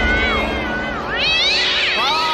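A cat meows and yowls in a drawn-out, wavering cry, loud and close, rising into a second, higher yowl near the end with no talk over it.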